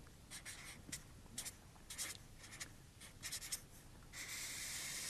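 Handwriting a maths formula, likely pen or chalk on a surface, in short scratchy strokes with small pauses, ending in a longer continuous scrape, close and alone.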